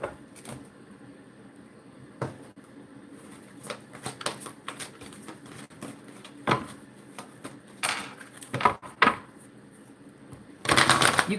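Tarot cards shuffled quickly by hand, a run of crisp riffling bursts and soft slaps that cluster near the end, close and fairly quiet, with no voices.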